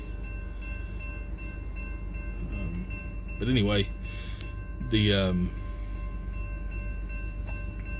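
A train passing on tracks near Alviso, a steady low rumble with two loud horn blasts midway, while a person speaks briefly near the start.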